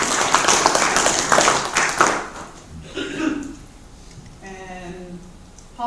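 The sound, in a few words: audience applause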